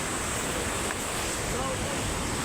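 Water crashing and splashing hard at Lulugayan Falls, swollen after rain, a loud continuous broadband rush close by with steady roar and spray, no distinct pauses.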